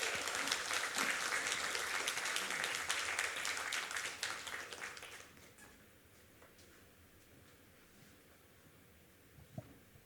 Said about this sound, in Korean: 여러분 박수로 환영하도록 하겠습니다.